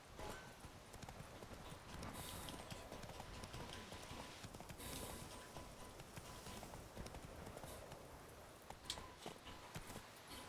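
Roach, the horse in The Witcher 3 video game, gallops with quick rhythmic hoof clip-clops, steady and fairly close, over faint ambient noise.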